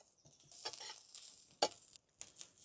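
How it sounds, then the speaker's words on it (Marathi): Green chilli, ginger, garlic, cumin and coriander frying in a little oil on a tava griddle, giving soft, intermittent sizzling bursts and stirring noises at a fairly low level. "हिरवी मिरची, अद्रक, लसूण, कोथिंबीर व्यवस्थित फ्राय झालेले आहे याच्यामध्ये तव्यामध्ये"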